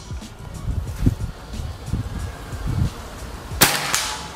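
A sharp, sudden PCP air rifle shot near the end, a single crisp crack with a short tail, preceded by soft rustling and low thumps.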